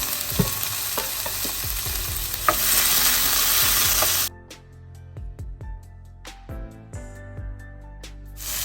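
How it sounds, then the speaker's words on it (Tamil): Onion, tomato and green chilies sauté in a pan, a loud close sizzle with spatula scrapes and taps. Partway through the frying noise drops away sharply, leaving quieter stirring knocks and clinks. "வெங்காயம் தக்காளி சிக்கன் மிளகாய் வதங்கி கொண்டு வர"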